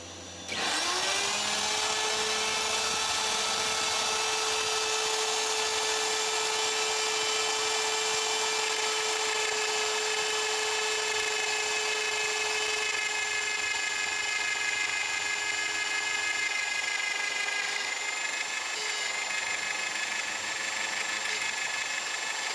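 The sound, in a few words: router with round nose bit shaping table leg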